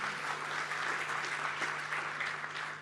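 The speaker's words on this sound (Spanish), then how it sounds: "Un aplauso para Diego" Steady, continuous applause fills a church congregation, loud and sustained throughout, with no voices rising above it.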